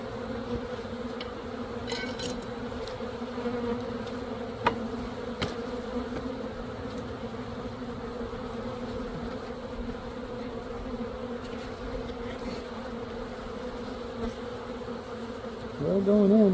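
Continuous droning buzz of many honeybees around a hive during a new bee installation, steady and close, with a few faint clicks and a brief louder rustle at the end.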